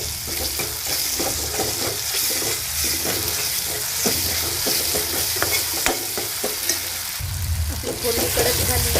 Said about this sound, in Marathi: आपल्याला टोमॅटो पण एकजीव करून घ्यायचं, छान असं तेलामध्ये फोडून घ्यायचं